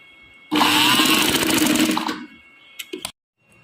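A sewing machine stitches fabric strips into round loops for a kurti neck design, running in one loud continuous burst of about a second and a half, then several short, sharp mechanical clicks before going silent.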